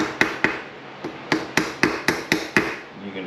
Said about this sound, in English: You can just hammer everything down.